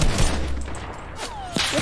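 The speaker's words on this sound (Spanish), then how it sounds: "estos son tremendos disparos con el nuevo arma" Rapid gunfire from a new weapon in Fortnite, a dense burst of shots followed by a sweeping whistle and a sharp late crack, fairly close and unaccompanied by speech.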